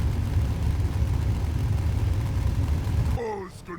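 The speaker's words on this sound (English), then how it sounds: "Those engines are loud. Rumble." Ork vehicle engines in a Warhammer 40,000 video game growl in a deep, steady drone that cuts off abruptly near the end as a voice begins to talk.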